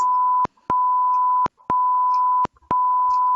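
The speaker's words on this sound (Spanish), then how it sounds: "las alarmas bajas van a sonar siempre que las temperaturas y la humedad sean más bajas a los rangos indicados" An incubator's low-temperature alarm sounds a steady electronic tone in long beeps, about a second each, separated by short clicks and gaps, repeating evenly with no talking.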